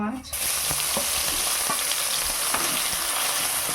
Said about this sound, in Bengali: মাছগুলোকে ভালো করে ভেজে নিতে হবে।